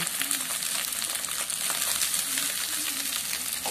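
Rice tossed into a hot pan of oil with cloves and two bay leaves, frying with a steady, dense sizzle and faint stirring scrapes throughout, close and continuous with no talk.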